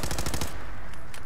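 Automatic gunfire from a gun in the video game Fallout 4, a loud rapid burst of shots that stops abruptly, followed by a couple of sharper single cracks.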